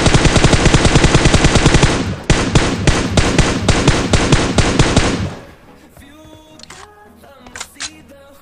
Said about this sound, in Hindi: मैंने उठा ली MK14 यहाँ से उठा ली, क्योंकि भाई बहुत प्यारी गन है ये, बहुत मस्त चलती है ऐसे